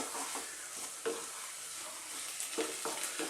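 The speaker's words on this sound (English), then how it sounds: "I'm going to give that a mix." Eggplant potato curry with fresh cilantro is stirred in a pan, giving a faint, soft sizzle broken by a few scraping spoon strokes.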